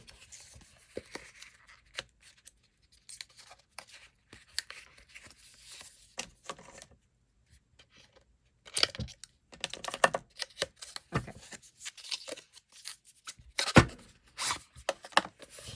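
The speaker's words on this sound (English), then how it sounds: "I'm not very good at opening boxes sometimes" A subscription box of stationery is opened with scattered crinkling, tearing and rustling of cardboard and packaging close to the mic, busier in the second half, with no talking.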